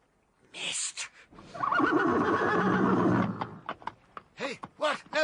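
A horse gives a loud, drawn-out neigh that rises and wavers for over a second, framed by shorter snorts and whinnying bursts, with a voice narrating around it.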